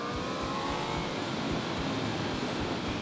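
An Aprilia RSV4 Factory motorcycle screams along a racetrack at high revs, a steady, loud engine whine heard from onboard with wind rush.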